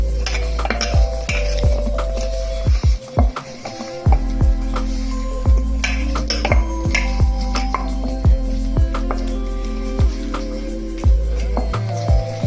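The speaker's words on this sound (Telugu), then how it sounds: "చికెన్ మసాలా ఒక స్పూను వేసుకున్నాం కదా. ఇవి బాగా కలుపుకోవాలి ముక్కకు పట్టేటట్టు." Chicken pieces are mixed with chicken masala in a metal bowl, a spoon scraping and clinking against the sides in repeated irregular strokes, close up and fairly loud with no talking.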